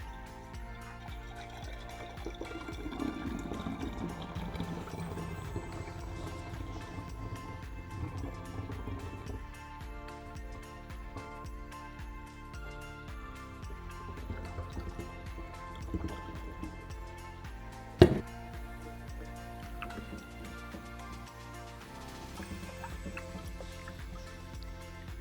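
Homemade Puerto Rican coquito pouring through a funnel into a washed glass bottle, a soft steady liquid trickle running throughout with a brief clink near the end.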